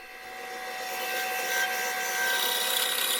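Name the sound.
bandsaw cutting scrap wood pieces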